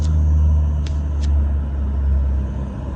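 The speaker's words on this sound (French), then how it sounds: "Attends, c'est ça qui fait le bruit. Voilà, Nissan 350Z" Low rumble of a Nissan 350Z engine running steadily nearby at a car meet, a continuous deep idle with a couple of brief higher clicks or squeaks over it.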